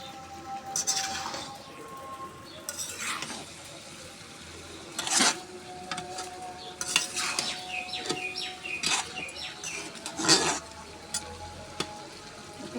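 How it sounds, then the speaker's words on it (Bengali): A spoon stirs a pot of beef curry with taro stems, pointed gourd and potato, making repeated scraping clinks over a low, quiet sizzle. "অল্প আছে কষিয়ে নিতে হবে।"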